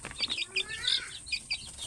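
Chicks chirping in a lively cluster, high thin peeps overlapping in quick bursts, fairly close, with no talking.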